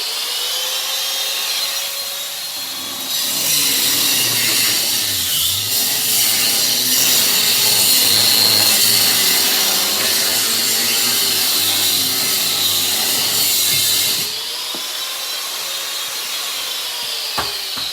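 A Sawzall reciprocating saw cuts through the body of a brand new RZR side-by-side, a loud, steady rasping drone that runs for about eleven seconds and then stops, with quieter handling noise before and after.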